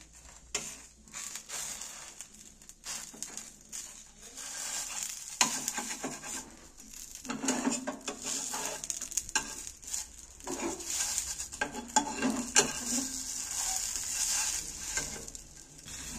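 Rolled patishapta pancake frying in a pan, an uneven sizzle with repeated scraping and shuffling as it is turned, rising and falling in loudness, without speech.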